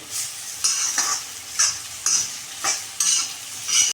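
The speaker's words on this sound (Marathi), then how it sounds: "थोडासा अजून परतवायचा आहे ते बघा वड्या आपल्या अजून थोड्याशा परतवायच्या आहेत" Vadis sautéing in a pan with a bright sizzle, punctuated by regular scraping stirs roughly every half second; no voices.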